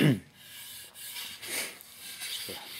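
Sandpaper rubbing over the wood of a control line trainer model plane, a dry rasping scrape in several strokes, close and fairly quiet with no talk.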